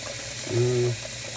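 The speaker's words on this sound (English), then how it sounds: "So I fill it up most of the way. And this is cold water, it's not hot." Cold water running from a kitchen tap into a container, a short humming gush of flow lasting under half a second against steady background noise.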